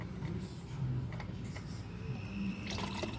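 Engine oil draining from a 2006 Honda Civic during an oil change, a steady low trickling pour that runs continuously and fairly quietly, with no talk.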